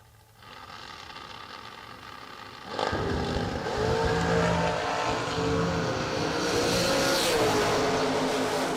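Drag racing cars launch off the line at a season kick-off event, a quiet idle suddenly rising into a loud, sustained engine roar that holds steady at a distance.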